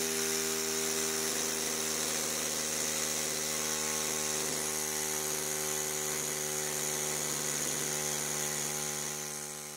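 A homemade pneumatic power scraper fitted with a carbide blade scrapes a cast iron surface, making a loud, continuous buzzing vibration with steady harmonic tones and a rapid chattering texture that fades slightly at the end.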